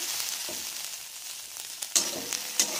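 Chilli cooking in a covered pot as its water boils off, giving a steady soft hiss with a few brief sharper sizzling pops, close and alone without talk.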